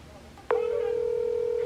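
An Apple Watch SE places a phone call through Siri: after a quiet moment a short chirp sounds, then a steady, clear electronic calling tone holds evenly to the end, fairly soft and close.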